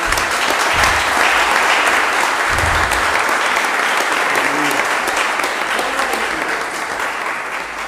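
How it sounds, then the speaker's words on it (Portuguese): A church congregation applauding together, a dense, sustained wash of clapping that fills the room at steady loudness and eases off slightly toward the end. "Dá uma salva de palmas para ele."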